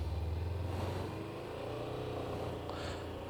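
A motorcycle engine hums at slow riding speed, revved gently in a low, steady drone that rises slightly partway through, fairly close and alone.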